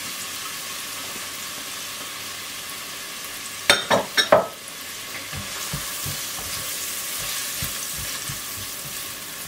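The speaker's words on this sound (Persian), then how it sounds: "و یک کوچولو میخوام به سرچوبه بریزم و پیازایی که نگینی خود کردیم و این روغن و سرچوبه تفت بدم" Diced onions and turmeric sautéing in hot oil in a pan for a Persian tahchin, a steady close sizzle and frying hiss with a short burst of louder crackling and stirring scrapes partway through.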